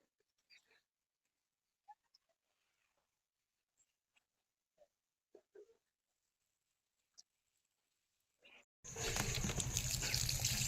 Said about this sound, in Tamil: நம்ம மிக்ஸ் பண்ண தேங்காய் பால் தண்ணியும் புளிச்ச இட்லி மாவு தண்ணியும் நம்ம செடிங்களுக்கு விட்டாச்சு